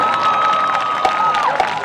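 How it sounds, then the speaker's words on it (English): Applause and cheering from the crowd at a 2023 high school battle of the bands at South Gwinnett High School, loud and sustained, with a steady whistle-like tone running through the first part. "Give a round of applause."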